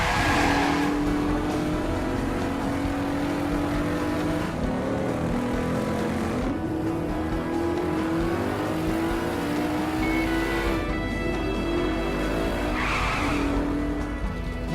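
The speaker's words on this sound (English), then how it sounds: "Even just tapping the handbrake is effective when using it for 90-degree turns or even slight turns." In the Saints Row video game, a bootlegger car's tires squeal and skid through handbrake turns. Engine drone and revving run throughout, loud and continuous, with screeching slides rising and fading.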